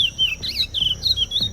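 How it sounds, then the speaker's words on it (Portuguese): A chestnut-bellied seed finch, the Amazonian curió, sings a string of bright, close whistled notes, rising and falling in quick repeated phrases with a faint low rumble underneath. "Esse é o curió, pássaro que vive na Amazônia."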